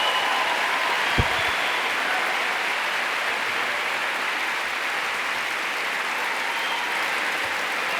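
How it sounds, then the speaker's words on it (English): Sustained, dense applause from a large festival audience fills the hall without a break, welcoming Julian Assange live by satellite, with a single louder thump near the start. "And Julian, as you can hear, not just an appreciative crowd"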